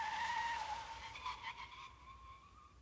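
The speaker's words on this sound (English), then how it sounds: "He hits the brakes and the wheels lock up." A Mercedes-Benz without ABS braking hard with its wheels locked, giving a loud high tire squeal that holds and wavers for nearly three seconds before easing off.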